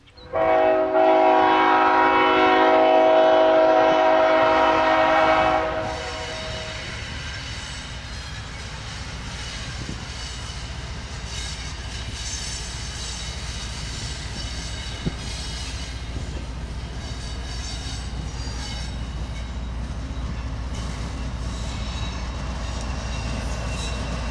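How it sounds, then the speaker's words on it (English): A freight train, Q351, passing through Deshler, Ohio, opens with a loud, sustained horn blast for several seconds, then gives way to a continuous heavy rumble and wheel noise as the cars roll steadily past nearby. "our last train is about to come through"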